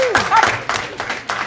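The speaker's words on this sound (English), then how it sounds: "Clap it up" Students at a STEM academy clapping in a short burst of several uneven hand claps, with a voice speaking briefly at the start.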